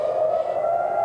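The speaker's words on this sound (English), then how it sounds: "These sirens that you hear off in the distance, again, are used to warn the population to get into shelters." A steady wailing tone of civil defense sirens in Israel, held at one pitch through a brief moment and heard from a distance with no voices.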